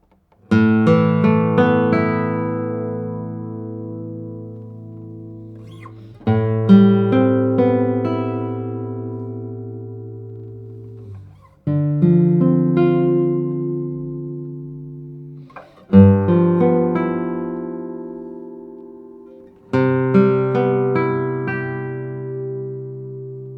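Classical guitar with a cedar top and Madagascar rosewood back and sides, 64 cm scale, played alone in five strummed chords spaced a few seconds apart, each ringing out warm and slowly decaying, close and clear.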